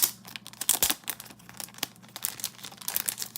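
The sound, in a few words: handling small paper envelope with photos from Hateful Eight steelbook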